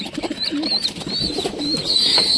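A pigeon coos softly and repeatedly up close, its low throaty calls rising and falling against faint chirping and background noise.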